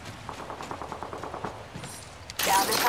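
Automatic gunfire from a weapon in the video game Apex Legends: a quick regular string of shots, then a louder, denser burst of firing near the end.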